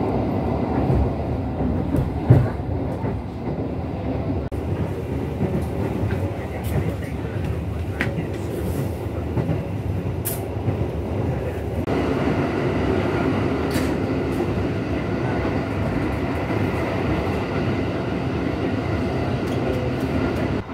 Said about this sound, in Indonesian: kereta api Dharma Wangsa sudah diberangkatkan dari stasiun Surabaya Pasar Turi